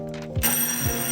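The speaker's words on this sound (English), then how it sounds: "if the telephone is ringing," An old hand-cranked telephone bell rings in a steady bright trill, close and fairly loud, with a faint low mechanical rattle beneath it and no talking.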